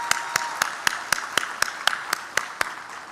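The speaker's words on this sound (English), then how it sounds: "Let's give Kingsley one more round of applause for that." Slow, evenly spaced clapping at a chamber of commerce annual dinner, about a dozen steady claps at moderate volume with a faint room background.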